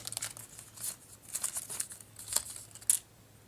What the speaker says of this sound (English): It's got a little plastic film around it.